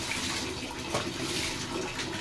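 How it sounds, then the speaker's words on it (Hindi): Clothes being washed by hand in water, a continuous close sloshing and splashing of water with no pauses and no talking. "हम धो रहे हैं जी हाथ से कपड़े"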